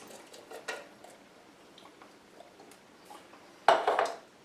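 Canned mixed vegetables tip into a soup pot with a brief wet clatter and splash near the end, after soft scattered kitchen clinks.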